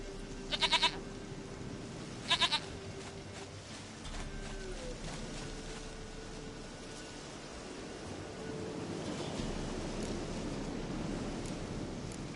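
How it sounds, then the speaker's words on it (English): Two short goat bleats from The Witcher 3 come close together near the start, followed by a low, steady ambient game wash with a faint tone and rising noise toward the end. "Goat of mine, dearest, sweetest goat."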